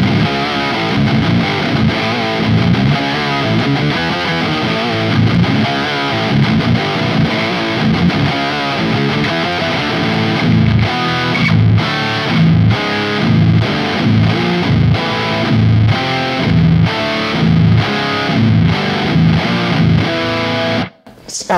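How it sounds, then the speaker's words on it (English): Heavily distorted electric guitar riffs run through a wow-style octaver pedal in the Neural DSP Archetype Gojira plugin, loud and continuous, with pitch-sweeping, choppy rhythmic stabs in the second half. "The first one is what they have here called a wow pedal."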